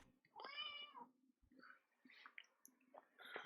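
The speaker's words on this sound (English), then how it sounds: "That's a cat." A cat named Scully meows close by in one long, clear call, followed by softer chirps and small scattered noises.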